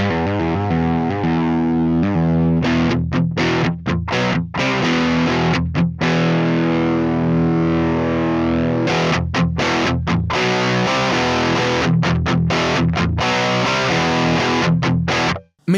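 An electric guitar played through a Neural DSP Mesa Boogie Mark IIC+ amp plugin gives loud, distorted driven chords and riffs with sharp stops between phrases, ringing out alone without talk.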